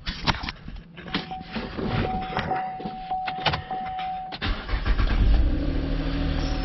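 A fifth-generation Chevrolet Camaro is started after an oil change: some clicks and clunks around the car come first, then the engine fires and settles into a louder, steady rumble close by.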